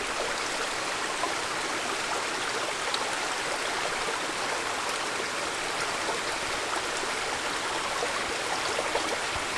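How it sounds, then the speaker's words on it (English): Water being scooped from a mountain stream into a 1 liter soft bag for a Katadyn BeFree filter, heard as a steady, loud rush of flowing water throughout. "I'm just going to swoop up some water here."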